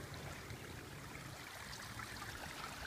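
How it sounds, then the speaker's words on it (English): Water trickles down a small woodland stream in Texas in late winter, a faint, steady babbling wash heard alone without any voices. "I've never seen water run down this little stream."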